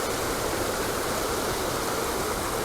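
A mountain stream in Crimea, near the Botkin trail, rushes down over slippery rocks in a loud, dense, continuous roar of churning water heard up close, with no speech.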